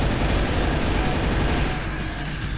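Rapid, dense gunfire in the first-person shooter Brutal Doom, a loud continuous burst of shots that thins slightly toward the end.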